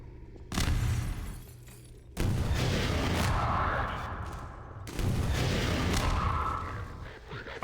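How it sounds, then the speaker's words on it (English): Rocket launcher fire in the video game Half-Life 2: Episode One: three loud, close, broadband blasts, each followed by a sustained roaring rush that trails off before the next launch. "Guess I could use a rocket launcher."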